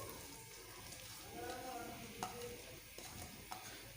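Onions frying in hot oil for dal mash give a faint, steady sizzle with a few soft spoon clicks against the pan, quiet and close.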